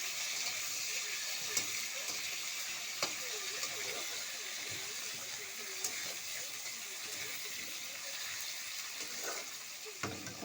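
Potatoes frying and being stirred in a pan for a curry, a steady sizzling hiss with scattered scrapes and clinks of the spoon, close and continuous, with faint voices in the background.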